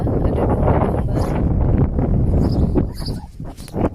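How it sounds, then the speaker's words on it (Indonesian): Strong gusts buffet the microphone in a loud, continuous rumble on a farm in Norway, easing slightly toward the end. "Anginnya agak kencang kawan-kawan."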